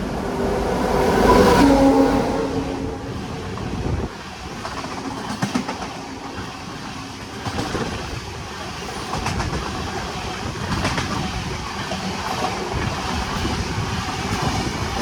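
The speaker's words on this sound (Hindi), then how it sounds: "बैंगलोर राजधानी, दिल्ली को जाने वाली ट्रेन बैंगलोर से, एसएमटीवी दिल्ली से, एसएमटीवी बैंगलोर से चल के दिल्ली को जाने वाली सुपरफास्ट ट्रेन" The Bangalore Rajdhani superfast train rushes past, a loud roaring rumble that swells early then settles into a sustained rattle and clatter of coaches going by nearby.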